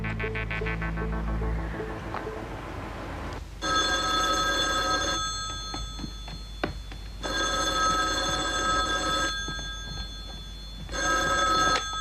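Old landline telephone bell ringing in bursts, three loud sustained rings separated by pauses, with a busy scene of other sound fading beforehand, in a 1978 French crime drama setting.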